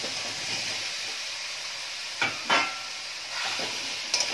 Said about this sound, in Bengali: মশলাটার সাথে মটরশুঁটিটা একটু নাড়াচাড়া করে মিশিয়ে নিচ্ছি